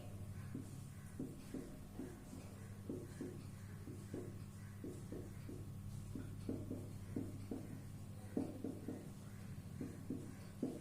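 A pen draws a graph on graph paper, faint rhythmic scratching strokes in short repeated bursts over a steady low room hum.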